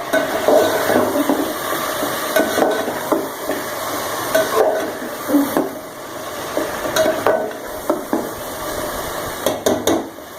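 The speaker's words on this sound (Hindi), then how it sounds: "3 टेबलस्पून लिया है मैंने जिंजर गार्लिक पेस्ट, ये ऐड कर देंगे इसमें। तो इसको सौते कर लेंगे।" Ginger garlic paste, three tablespoons, sautéing in a pot for chicken biryani, giving a steady close sizzle with repeated scraping stirs and light clinks from the utensil against the pot.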